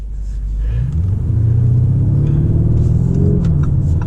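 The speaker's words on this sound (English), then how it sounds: "we're driving the Lamborghini Urus" Deep, loud engine roar building as a Lamborghini Urus accelerates in sport mode, heavy rumble rising in pitch, close and continuous.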